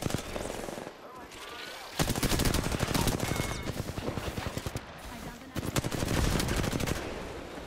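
Rapid automatic gunfire in the Apex Legends battle royale game, several long bursts of fast shots with brief pauses between them, loud and close.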